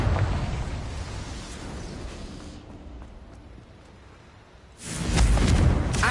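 Confringo blasting curse in the Hogwarts Legacy video game, with a rumbling explosion fading into a quieter lull, then a second loud blast near the end.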